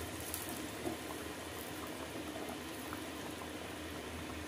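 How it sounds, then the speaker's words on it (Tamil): A pot of thin salna curry enriched with butter or ghee simmers at a boil. It gives a soft, continuous bubbling hiss at low volume with small pops. No voices are heard. "நல்லா கொதிச்சிச்சு சால்னா ரெடி"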